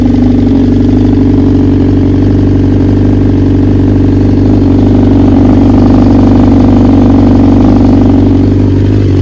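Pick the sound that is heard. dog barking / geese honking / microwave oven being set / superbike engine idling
superbike engine idling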